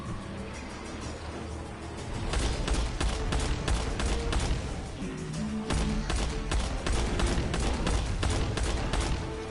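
Rapid gunfire from a Dalek video game, shots fired at an enemy in dense bursts of repeated cracks over a constant background roar, growing louder and denser after the opening seconds and continuing steadily to the end.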